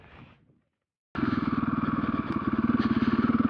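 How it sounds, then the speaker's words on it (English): Husqvarna FE501 dirt bike ridden off road near Anglesea, Victoria: after a brief silence the engine bursts in loud and close with a steady pulsing throttle drone that surges and holds. "Bikes are going well this time, Alex."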